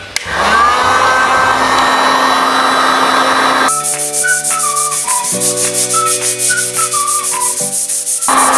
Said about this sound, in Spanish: Aceleramos el proceso de secado con la pistola de calor